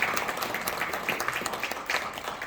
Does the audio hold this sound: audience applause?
yes